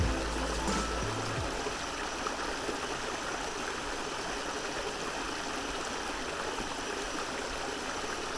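A small jungle creek in Indonesia rushes and splashes in a continuous close wash of flowing water, with a brief low rumble at the start and no voices.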